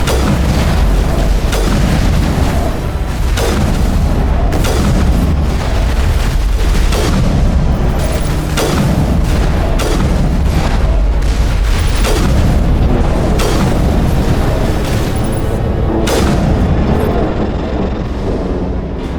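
Defense turrets in Mass Effect pound a Geth dropship with heavy booming shots at irregular intervals, loud and close over a constant rumbling battle din, with no talking.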